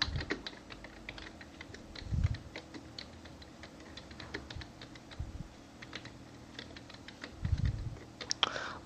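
Close computer keyboard typing runs as continuous quick clicks while someone writes C code. A few soft low thumps and faint breathing sit in the background.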